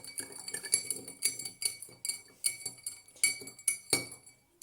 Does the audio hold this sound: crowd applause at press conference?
no